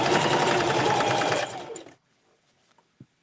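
Rapid mechanical stitching of a sewing machine sewing a Christmas stocking, a loud continuous run of about a second and a half that stops abruptly, followed by near silence and a faint click.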